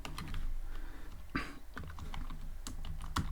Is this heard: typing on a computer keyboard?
yes